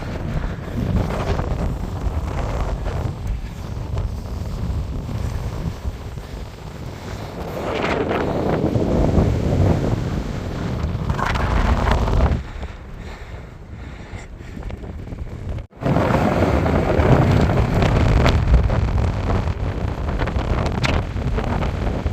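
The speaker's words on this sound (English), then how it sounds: "That wind was absolutely brutal" Strong, brutal wind buffeting the microphone near a mountain summit, a loud continuous roar with gusty surges and a brief dip before it returns at full force.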